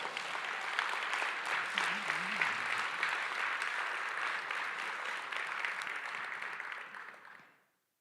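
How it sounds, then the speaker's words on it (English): Sustained applause from a large crowd at a Martin Luther King Jr. Day ceremony, steady and dense for several seconds, with a brief voice underneath, then fading out abruptly. "let's give them one more round of applause"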